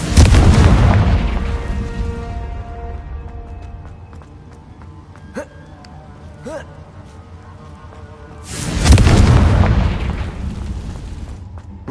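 A Confringo blasting spell explodes in Hogwarts Legacy on PlayStation 4 Pro. A loud, deep boom opens and slowly decays, two sharp magical zaps follow in the quieter middle, and a second heavy blast rolls in near the end.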